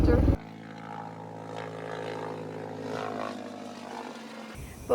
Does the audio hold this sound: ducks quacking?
no